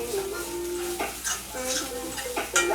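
Ground turkey browning in a frying pan, soft sizzling broken by scraping and stirring knocks from a utensil, with tonal music running underneath.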